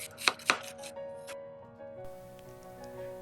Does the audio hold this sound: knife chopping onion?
yes